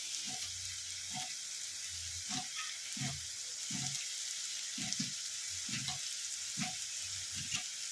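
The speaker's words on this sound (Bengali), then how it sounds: "আলুটা ভেজে নিয়ে আমি ফেরত আসছি" Potatoes frying in oil for pulao, a soft continuous sizzle with periodic louder bursts and scrapes as they are turned, fairly quiet and close.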